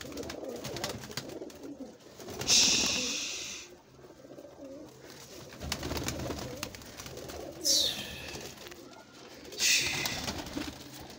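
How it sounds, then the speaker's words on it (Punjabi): Pigeons of many colours and breeds cooing in a loft in Lahore, soft repeated low coos layered close together, punctuated by a few brief bright rustling bursts, with light background noise. "ਹਰ ਰੰਗ ਦਾ ਹਰ ਨਸਲ ਦਾ ਕਬੂਤਰ ਹੈ ਜੀ"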